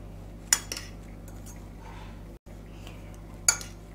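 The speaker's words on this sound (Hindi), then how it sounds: "अब हम कॉर्नफ्लोर डालेंगे और कॉर्नफ्लोर डाल के लच्छे को हम हिला दें।" Utensils clink twice against a bowl as grated potato strands are tossed with cornflour, with soft handling sounds in between under a quiet background hum.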